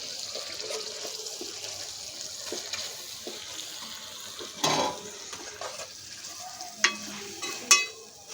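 Masala stirred into a frying prawn and gongura curry in a pan, a steady soft sizzle with scraping stir sounds, a louder clatter midway and a couple of sharp utensil knocks near the end.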